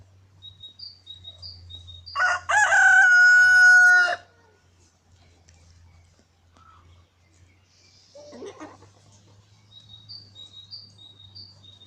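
A rooster lets out one loud, drawn-out crow, surrounded by faint chirping birds and a low hum, with quieter clucking afterward.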